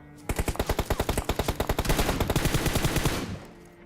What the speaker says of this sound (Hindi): अब मैं यहाँ पे प्रोन फायर देने वाला था